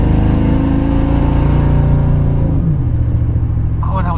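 A 2002 Chevrolet S10 pickup fitted with a Vortec 356 V8 pulls hard under acceleration on a highway, its steady engine drone dropping in pitch as it shifts smoothly into the next gear, loud and close from inside the cab.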